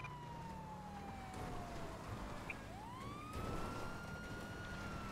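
Police sirens wail in a GTA V police-mod chase, one long tone sliding down and another sweeping up at moderate distance over a steady rumble of traffic, with no talking.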